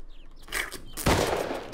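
Gunfire in the survival video game Rust, a short burst of sharp, loud shots at close range, with quieter game noise before it.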